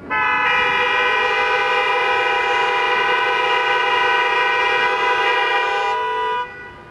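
Car horns sound together in a road-accident memorial, 24 of them blaring in one steady, loud, continuous chord for several seconds before cutting off.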